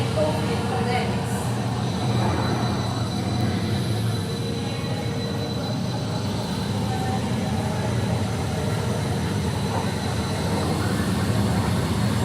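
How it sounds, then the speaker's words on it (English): Train station ambience, with a rumbling train and rolling wagons, faint wheel squeals and a steady low drone under distant indistinct voices throughout. "an edition at the train station with different sounds"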